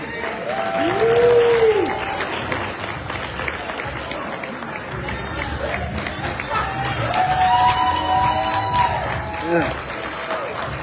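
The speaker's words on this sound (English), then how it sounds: "Can we please give another round of applause?" Audience applause and cheering at a youth banquet of an NAACP California/Hawaii convention after a keynote speech, a steady roar of clapping from a large crowd lasting throughout, with a voice speaking over it.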